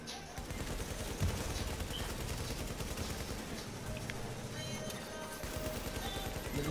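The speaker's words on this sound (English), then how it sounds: "Bitch, who you shooting at?" Dense, rapid automatic gunfire from a video game, a continuous burst of close shots with sharp bangs layered throughout, loud and steady for the whole stretch with no talk over it.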